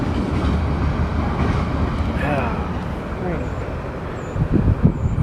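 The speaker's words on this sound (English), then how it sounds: "A train comes through Manor." A train passes through Manor, a low rolling rumble with rail clatter that runs steadily beneath nearby voices talking throughout and swells slightly near the end.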